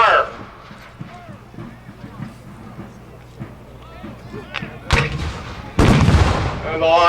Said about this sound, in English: the line of Confederate artillery opens up on the Union infantry